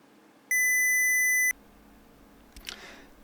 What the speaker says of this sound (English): There we go, it's beeped